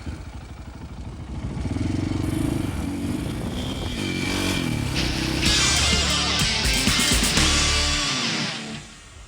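A 640 RS motorcycle rides past, its engine revving loud and close with rising and falling pitch as it accelerates, joined by some clatter and scraping before it fades at the end.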